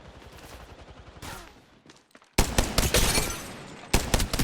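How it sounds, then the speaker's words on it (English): Rapid bursts of automatic gunfire in Apex Legends Mobile, a loud crackling volley after a brief lull and a second burst near the end, sharp and close over softer game ambience. "Opening fire."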